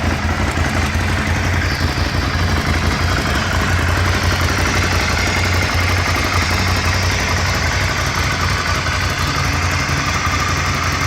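A 2015 Ducati Scrambler motorcycle engine idling, giving a steady, loud, low rumbling throb that holds even and uninterrupted close by, with no talk.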